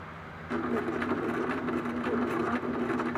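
A sewing machine stitches a pocket onto fabric, a steady mechanical whir with a low humming tone that starts after a brief quiet moment and runs evenly to the end.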